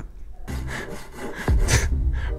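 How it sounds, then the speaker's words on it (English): Sawing of wood inside a horror video game, a steady run of rough scraping strokes, fairly loud, ending in a heavier thud and a brighter rasping burst. "you got a saw. Cut the wood."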